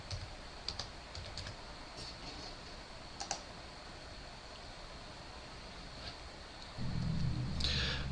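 Typing on a computer keyboard while entering a domain login in Windows 7, soft scattered keystrokes and clicks in a quiet room, with a burst of louder background noise near the end.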